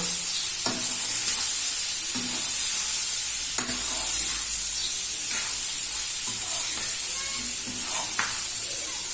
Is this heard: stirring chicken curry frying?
yes